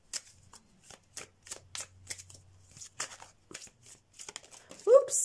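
Tarot message cards shuffled by hand in repeated crisp riffling bursts, close and fairly quiet, with a brief louder flick near the end.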